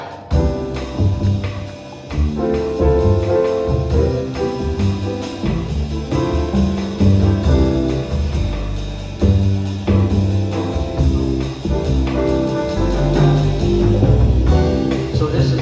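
A jazz quartet plays an upbeat bossa nova groove, with bass, chords and a melodic line moving through a major scale, steady and full, no voices.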